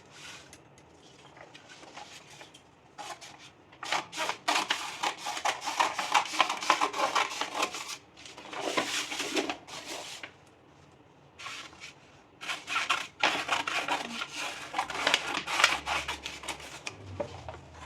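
Scissors cut fabric for a baby napkin in a tailoring lesson, several bursts of crisp snipping and rustling cloth, close and fairly loud, with quiet pauses between cuts.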